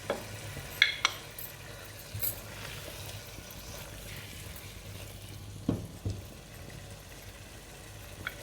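Grated carrots with sugar and ghee roasting in a pan for gajar halwa, a low steady sizzle broken by a few soft scraping stirs, heard alone without talk.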